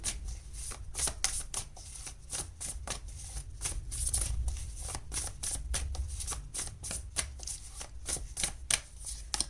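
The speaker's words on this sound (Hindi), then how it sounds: "चलिए और देखते हैं, आपके टैरो कार्ड्स निकालते हैं आपकी।" Tarot cards being shuffled by hand, a steady run of quick riffling and slapping card sounds, close and fairly loud, with no talking.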